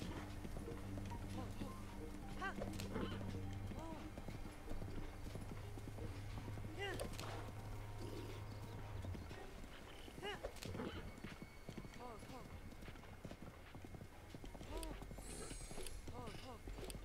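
Steady clip-clop of a horse's hooves in The Legend of Zelda: Breath of the Wild, with a whinny and game sounds under continuous talking.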